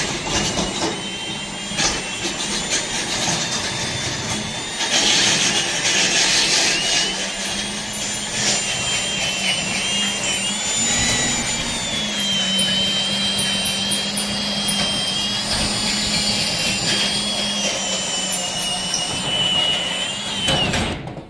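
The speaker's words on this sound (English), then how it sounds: "just keep drilling and it should just start twirling" A power drill boring steadily into the lock of a storage unit, a loud, continuous whining grind with slight pitch shifts as the bit bites into the metal, running unbroken throughout with no talk.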